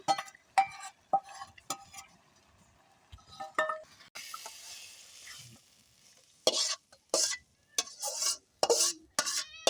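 Tangra fish added to a simmering vegetable curry in a village kitchen pot, with bursts of stirring clatter and scraping, metal clinks and soft sizzling, close and intermittent.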